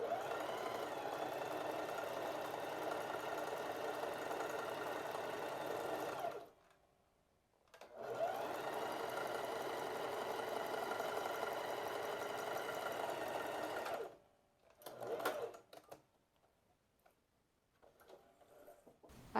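Sewing machine stitching elastic onto a peplum blouse, running steadily and close for several seconds, stopping briefly, then running again before a few short bursts and quiet handling at the end.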